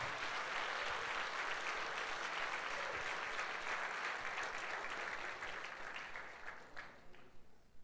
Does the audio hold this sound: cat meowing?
no